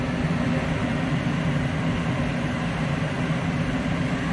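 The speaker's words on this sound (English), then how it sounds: "And your blower wheel is already running." Furnace blower wheel running steadily, a loud, even broadband whoosh of air with a low rumble, constant and uninterrupted throughout.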